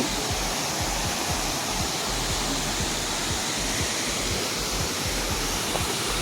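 A waterfall in Kottayam pours down continuously, a loud, broadband rushing roar with steady churning low-end rumble and no voices.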